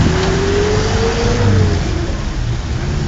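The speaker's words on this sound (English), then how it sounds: "Here is the traffic of Tehran" City traffic on a rainy day in Tehran, a steady wash of nearby engines and tyre hiss with one car's engine rising and falling in pitch as it pulls past, continuous and fairly loud.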